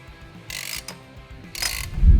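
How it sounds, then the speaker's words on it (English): A spring compressor works on a Kawasaki Teryx H2 shock, giving two short metallic ratcheting bursts up close with quiet gaps between them. "Go ahead and place it onto our spring compressor."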